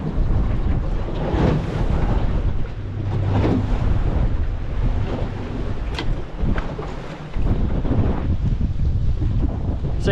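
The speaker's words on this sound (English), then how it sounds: "the wind's going to blow me right off the back of it" Strong wind buffeting a boat at sea off Perth during rock lobster fishing, a loud continuous roar and rumble against the microphone with water sloshing, steady throughout and no talk.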